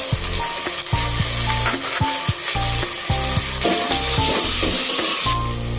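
Tomatoes sizzle and fry in hot oil for chicken pulao, giving a loud, steady crackle with clinking stirring sounds of a utensil against the pan close by, and no talking.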